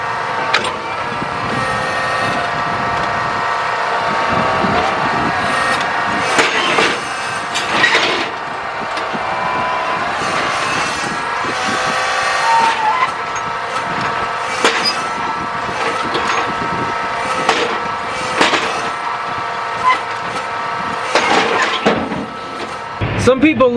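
A rock picking machine works a field with a steady engine drone under repeated clattering and knocking bangs as stones tumble, while a person talks over it.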